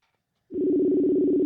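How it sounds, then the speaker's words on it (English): A steady telephone ringing tone on a call line starts abruptly partway through and holds loud and unbroken to the end, with no talk over it. "I think everyone can hear that ringing"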